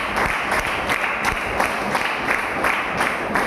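An audience at a motivational leadership training session applauds, a steady dense wash of many hands clapping that holds evenly throughout with small swells, no voices over it.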